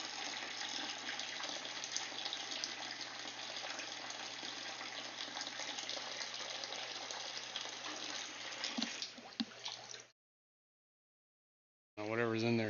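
Steady rushing water pours during an aquarium water change, a continuous close gush with a low hum beneath. It cuts off abruptly near ten seconds, and after a short silence a loud gurgling, bubbling burst starts.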